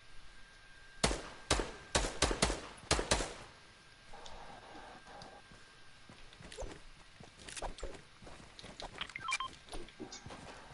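Fortnite gunfire, likely from a minigun: a quick cluster of sharp, loud shots near the start, then quieter scattered pops and rattling game sounds further off.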